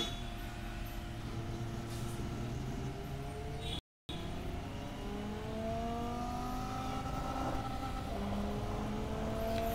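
Racing car engine from the video game Assoluto Racing, a steady loud drone with rising and falling pitch sweeps as the car accelerates and shifts, broken by a brief silent gap, with no talking.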